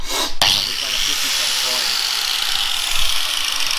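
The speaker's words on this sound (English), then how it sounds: "So whenever we sand tube, we sand with the tube itself." A metal tube is sanded by hand along its length while a differential housing is being shortened: a continuous close, loud, gritty rasping with a sharp scrape at the start, and a voice talking over it.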